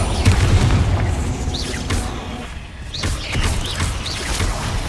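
Bombarda explosion spells going off in a Hogwarts Legacy battle, heavy low booms that swell and repeat over a dense, noisy combat din with scattered higher magical whooshes.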